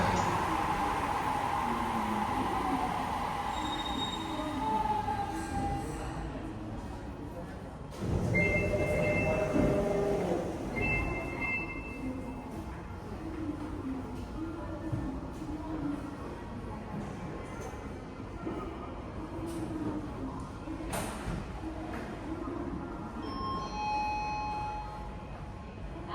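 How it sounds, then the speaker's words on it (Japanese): The last Tōhō Line subway train pulls out of Ōdōri Station in Sapporo, a steady rumble of wheels and motors with brief squeals, a platform announcement over it and a sudden louder surge partway through. "2番ホームから境町行きが発車します。"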